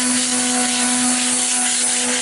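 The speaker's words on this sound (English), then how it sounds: "But Eli, he's got the power tool because he started off with this 80." A steady, loud power tool whine runs throughout with a strong constant hum, like an orbital sander grinding against metal on a hot rod build, no voices.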